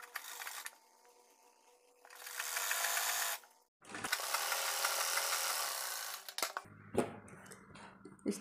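A sewing machine runs in bursts, stitching folded elastic onto a baby girl's top with a straight seam: one long run of stitching, a short pause, then another long run, followed by scattered handling clicks and fabric rustle.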